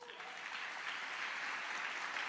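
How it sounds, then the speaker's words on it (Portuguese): A church congregation applauds steadily throughout, a dense, even wash of clapping at moderate level with no pauses. "Dê um aplauso a Jesus."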